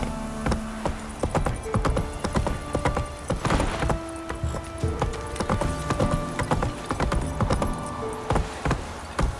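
Horse hooves clip-clop at a steady trot in The Witcher 3, a loud, continuous rhythm of hard hoof strikes with occasional tonal game sounds layered over it.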